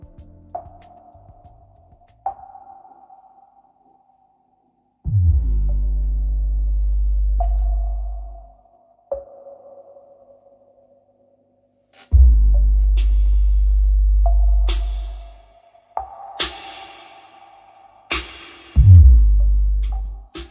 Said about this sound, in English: This is the sound with all covers take off.